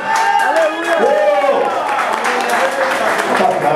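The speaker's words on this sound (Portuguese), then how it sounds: "Louva o Senhor com suas palmas, igreja." A church congregation claps their hands together in steady, dense applause, mixed with a loud voice speaking or singing over it throughout.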